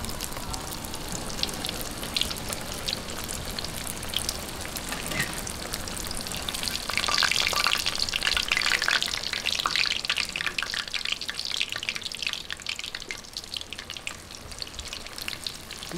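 Banana ron being fried in hot oil, a dense continuous sizzle and crackle like light rain that swells louder midway and settles again, with no talking.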